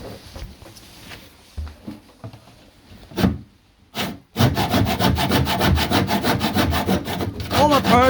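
A blunt hand saw grinds through hardwood during sideboard fitting. Scattered handling knocks and a sharp scrape come first, then a loud, close run of quick, rough back-and-forth strokes.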